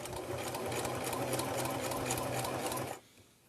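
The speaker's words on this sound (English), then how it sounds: "I'm just going to sew a little bit just to see" A sewing machine test-stitches a reusable coffee sleeve with a fast, steady mechanical whir and needle chatter that runs for about three seconds and then stops abruptly.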